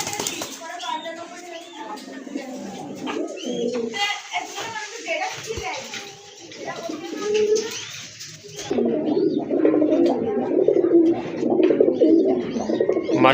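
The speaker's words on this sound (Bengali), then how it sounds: "খুবই চমৎকার কিন্তু দেখার মতো কবুতর, গড়রা কবুতর।" Gorra pigeons for sale coo in soft, repeated throaty calls near the listener, with someone talking over them and other birds and background chatter around.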